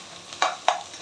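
Chicken fried rice tossed in a hot pan, two quick scraping stir-fry strokes against a faint sizzle, close and otherwise quiet.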